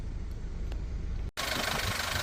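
A 2000cc diesel van engine with about 280,000 km on it idles at close range, a steady low rumble that cuts out for an instant and returns brighter and noisier.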